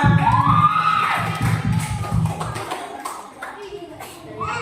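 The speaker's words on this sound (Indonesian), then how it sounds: "Tepuk tangan dulu buat Jonathan." Children at an Indonesian primary school clap and cheer together in a burst of noisy shouting that fades out after a few seconds.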